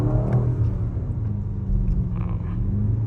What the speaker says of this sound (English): See, this is how the car sound now.